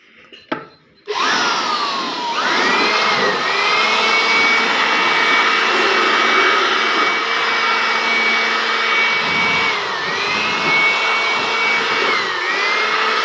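An air blower cleans a straw reaper with a loud, continuous whooshing roar that starts abruptly after a short knock. It holds steady with a whining tone that dips and shifts as the air stream moves over the machine.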